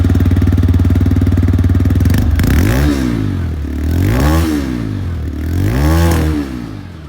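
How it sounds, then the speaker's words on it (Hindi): A TVS Raider 125 Bluetooth edition with a 125 cc three-valve engine idles with a steady low thrum, then revs three times in rising-and-falling surges, loud and close, with no talk over it. "125 सीसी में, क्योंकि यहाँ पर 3 वाल्व इंजन आ रही है तो उसकी आवाज़ भी काफ़ी ज़्यादा बेसियर है"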